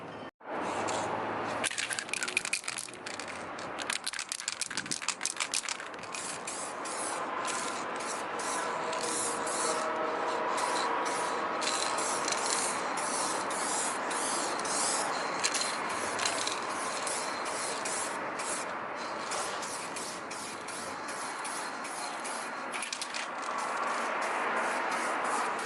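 A spray gun lays a second coat of metallic paint onto a budget car bumper extension: a loud, steady hiss close by, broken by short stops and restarts.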